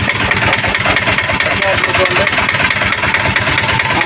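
A repaired Piaggio Ape auto-rickshaw engine runs at a steady idle, loud and close, with an even continuous beat throughout.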